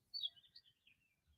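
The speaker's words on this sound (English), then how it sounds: "You hear the birds chirping" Birds chirping outdoors in a suburban area: a short run of high, faint tweets and trills, distant and quiet, over a low background rumble.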